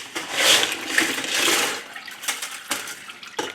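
Soapy water pours and splashes out of a rock tumbler barrel after a run of tiger's eye stones, a close hissing gush in two surges followed by a few lighter drips and splashes.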